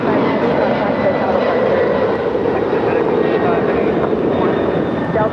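A FedEx jet takes off steeply from LAX, its engines producing a loud, steady, broadband roar that fills the whole stretch without letting up.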